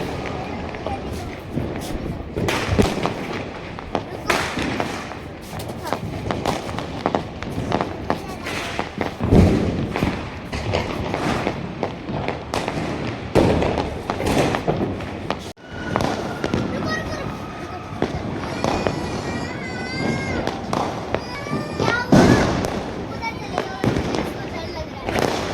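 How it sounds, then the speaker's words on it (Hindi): Firecrackers and fireworks bursting all around during a Diwali night celebration, heard from a rooftop: repeated loud pops, bangs and crackling thuds at irregular intervals, near and far, with distant crowd murmur and some talk. "पटाखे ही पटाखे जल रहे हैं सारे कहीं।"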